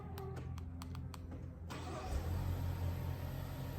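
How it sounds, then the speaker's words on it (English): A Ford EcoBoost engine, suspected of failure, is heard as a quiet start followed by a steady, smooth idle that rises slightly before settling, with a few light clicks beforehand. "I want you to listen to this engine and tell me what you think."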